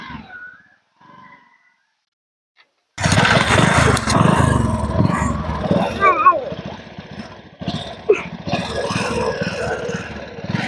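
A motorcycle ridden by a learner changing gear: after a quiet opening with a faint voice, a close engine abruptly roars in and runs loud and steady, rising and falling slightly, while people talk over it.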